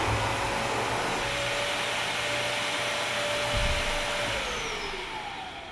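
A Bissell Crosswave Hydrosteam's motor drones loudly and steadily while its brush roller strains against a rug, the pitch sagging and the sound fading near the end.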